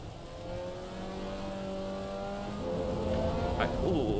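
A Mazda MX-5 race car on wet tyres in the racing game AC EVO, its engine droning steadily and rising in pitch as it accelerates, with a brief squeal near the end.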